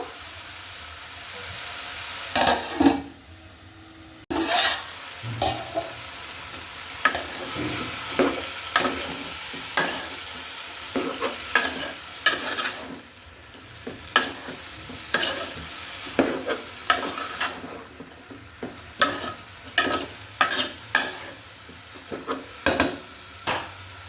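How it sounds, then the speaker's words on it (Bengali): Potatoes and chopped ash gourd peel are sautéed with spices in a pan, a continuous sizzle punctuated by repeated scraping stir strokes, close and fairly loud, with no talking. "আমি এটা মশলার সাথে আলু আর খোসা কুচি কষিয়ে নিব"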